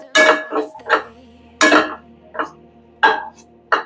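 Soaked sabudana with spices and potato stirred in a pan for khichdi: a utensil clanks and scrapes against the metal in separate, close, loud strokes, roughly six knocks with short gaps, no voices.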